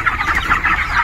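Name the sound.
poultry chickens clucking on a farm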